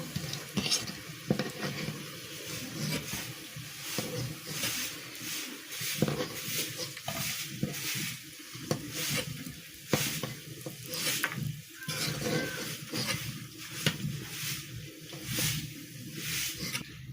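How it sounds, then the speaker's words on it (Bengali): Beef tikia patties frying in oil in a pan, with a steady, continuous sizzle and hiss that swells and dips in waves throughout, with no talking. "একইভাবে আমি বাকি টিকিয়াগুলো ভেজে নিব"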